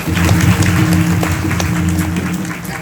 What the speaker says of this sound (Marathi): या सगळ्यांकरता एकदा जोरदार टाळ्या